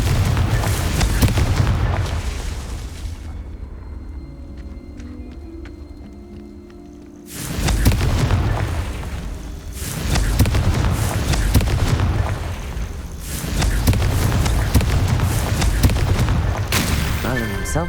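Booming spell blasts from the Confringo fire curse in Hogwarts Legacy, a loud, repeated barrage of explosive bursts with a brief quiet gap in the middle, mixed with game effects and a voice.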